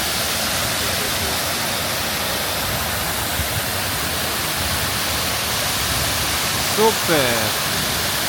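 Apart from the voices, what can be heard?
water flowing and splashing at a fountain in Genoa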